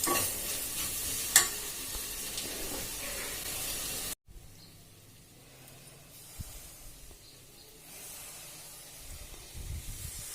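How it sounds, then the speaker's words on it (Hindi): Gram flour (besan) roasting in a pan on a gas stove while being stirred, giving a steady dry hiss and scraping for about four seconds before a sharp cut to a quieter, faint background. "अभी सिक चुका है बेसन, अब मैं गैस बुझा दूंगी"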